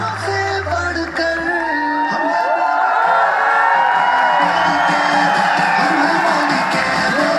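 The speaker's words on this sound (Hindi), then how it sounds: "एक बार जबरदस्त तालियां हो जाए" A large crowd at a Modicare stage event in Jaipur erupts in loud, sustained cheering, whoops and yells mixed with applause, a dense close roar that swells and carries on throughout.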